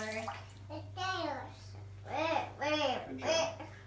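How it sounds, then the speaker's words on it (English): Tap water running into a bathroom sink while a small child's hands are washed, a steady splashing flow beneath a child's babbling and an adult speaking softly nearby. "We'll wash your hands."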